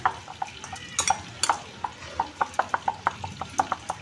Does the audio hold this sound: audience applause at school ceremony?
no